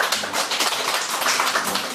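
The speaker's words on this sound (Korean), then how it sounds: "잘 돌아왔다고 박수 한번 주세요." A church congregation at a Sunday worship service gives a short round of applause: many hands clapping together in a fairly even, moderately loud burst that lasts a couple of seconds.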